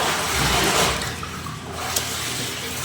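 Water sloshes and pours steadily as rice is tipped into a large pot of hot water for mutton biryani for seven people, a continuous close, rushing splash with a brief sharper spatter near the end.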